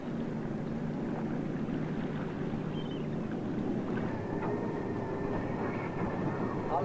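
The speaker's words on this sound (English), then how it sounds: "Andreas Dub, the ship's engineer, becomes worried by a persistent knocking in the engine." A fishing ship's engine, which has developed a persistent knocking, gives a steady low droning rumble with faint higher tonal whines. The drone continues evenly throughout without pause.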